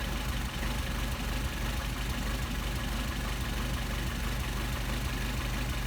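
A Mercedes 190SL engine on Solex carburetors idles steadily during carburetor adjustment, a loud, close, continuous rumble with a faint knocking pulse and no speech.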